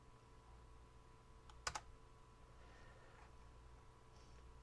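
A computer keyboard in a quiet room: a couple of sharp, close key clicks as a key is struck, then faint steady background hum.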